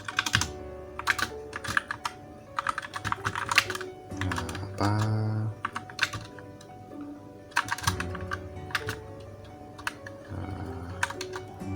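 Typing on a computer keyboard during a school e-learning tutorial: bursts of quick, close key clicks separated by short pauses, with a low steady background hum and a brief tonal sound in the middle.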